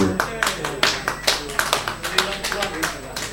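Audience applause breaks out after a live music performance at a pub venue, a steady run of sharp hand claps from a small crowd that stays fairly close and even for a few seconds.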